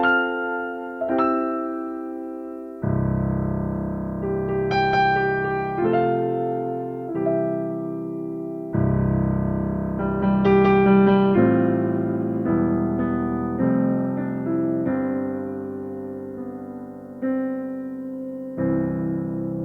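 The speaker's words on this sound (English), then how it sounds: "This is CFX Concert Grand." Solo piano passage on a Yamaha CLP 875 digital piano using its CFX Concert Grand sound, rich sustained chords and melody notes ringing with long resonant decay, loud and close with no talking.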